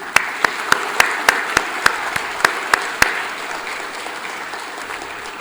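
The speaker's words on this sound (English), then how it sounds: "let us give a round of applause for him" In a conference auditorium, a small audience gives slow, evenly spaced, sharp claps, about a dozen in all, that thin out and stop, leaving quiet room tone.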